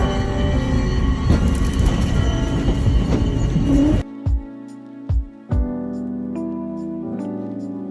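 A car of Angels Flight, the Los Angeles funicular railway, rumbles and squeals along the track for several seconds, then stops abruptly, leaving a few low thuds and quiet ringing tones.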